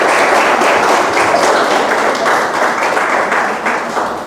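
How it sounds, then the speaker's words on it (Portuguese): Dense, loud applause from a large audience at a book launch fills the whole stretch, close and sustained without pause. "Merece palmas, mais uma vez."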